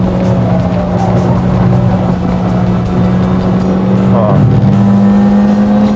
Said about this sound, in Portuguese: O turbo você consegue ver a hora que ele entra.